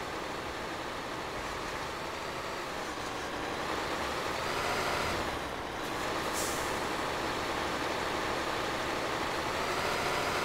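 A Volvo FM truck loaded with pipes drives on a muddy route, its engine droning steadily and loudly up close with a rumbling, continuous tone and a brief hiss midway.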